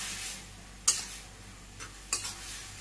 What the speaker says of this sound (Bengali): নেড়ে আমি আরো একটু কষিয়ে দেবো